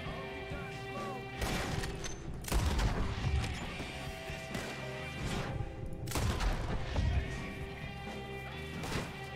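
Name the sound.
gunfire in the video game Red Dead Redemption 2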